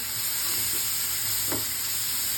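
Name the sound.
masala with coconut and garam masala frying in a pan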